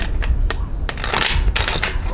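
A wrench tightening nylon lock nuts on an aluminium roof rack atop a 170 Sprinter van, giving loud close metallic ratcheting clicks and clinks in irregular bursts with no talking.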